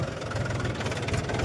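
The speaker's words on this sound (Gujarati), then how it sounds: "આ પાણા વીણવાનું મશીન છે ટ્રેક્ટરથી હાલે છે" A tractor-driven stone-picking machine runs in a farm field, with a low, throbbing engine drone and a steady rhythmic chug close by.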